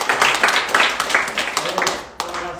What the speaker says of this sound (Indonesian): kita berikan tepuk tangan semua.